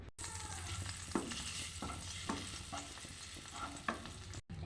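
Eggs coated in chili powder and ground roasted cumin, cardamom, cinnamon, bay leaf and dried chili fry in hot oil, a steady close sizzle broken by several scraping stirs of a spatula, with no talk.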